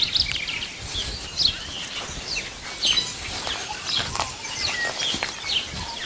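Birds chirp and call in short, scattered bursts outdoors, fairly faint over a soft rustling background, with no voices.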